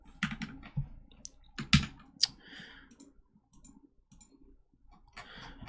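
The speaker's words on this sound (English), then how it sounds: "Your keyboard sounds so satisfying." Computer keyboard typing during a live coding session: a close, crisp burst of clicks with a few sharper keystrokes, then softer, scattered taps, with no talking.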